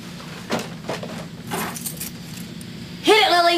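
A bunch of keys jingles and clinks in several short bursts at close range, followed by a person speaking.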